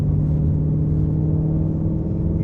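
Low, steady rumble of a Shelby GT350 Ford Mustang engine with its exhaust valves open, idling or cruising close by without any voices.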